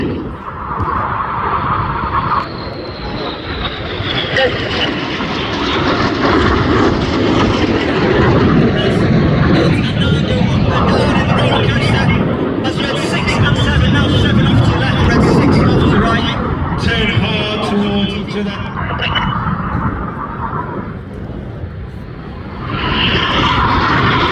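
RAF Red Arrows jets roar through display passes at the Midlands Air Festival, a loud sustained rushing engine noise that swells and fades, with an announcer talking over it.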